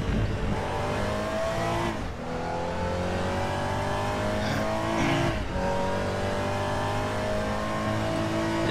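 A race car engine in the RaceRoom sim revs hard and rises through the gears, with two brief lifts for upshifts and a faint tyre squeal under the steady, loud roar.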